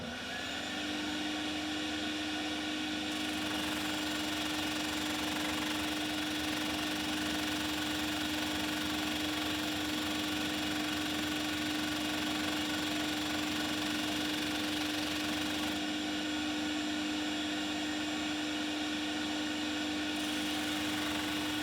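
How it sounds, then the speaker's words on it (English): Continuous steady drone of a power sander working the spruce-free acoustic guitar top plate during thicknessing, loud and close, a constant motor whine holding the whole time without pauses or talk. "it's much better to push this through quickly and then dwell on the belly, and then you get a much more even sand right the way along"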